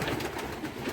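Young racing pigeons in an allotment loft, soft close cooing with a brief burst of calls at the end of a one-second moment.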